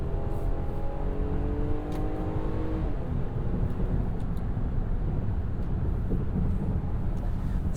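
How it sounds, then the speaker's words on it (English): A 2024 Nissan Pathfinder V6 pulling under load while driving, a steady low engine drone with rising tonal whine early on and road rumble beneath, heard from inside the cabin. "having this engine, it sounds so much burlier than the little 4-cylinders you get in a lot of new cars"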